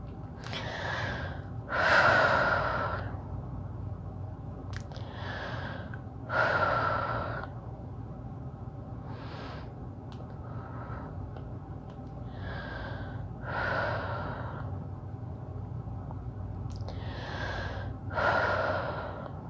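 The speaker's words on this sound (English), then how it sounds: "We're going to take a few deep breaths here." Slow, deep breathing comes from someone lying in yoga shavasana. Soft, close inhales and exhales repeat about every four to five seconds over quiet room hum, with no talking.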